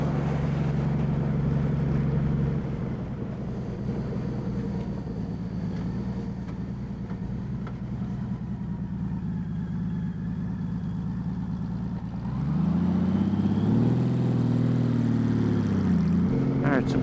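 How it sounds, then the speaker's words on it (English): Motorcycle fitted with VoloLights LED brake lights, engine droning steadily as the rider rolls off the throttle, pitch sagging then lifting with a brief rise near the end, with rushing wind throughout. "the bike is slowing down a little bit when I roll off through here"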